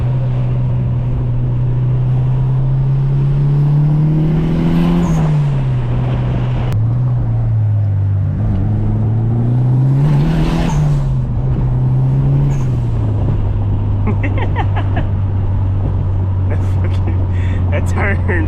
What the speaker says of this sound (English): I can hear like it get louder and quieter because the screamer pipe is like getting close to the ground and getting pulled off.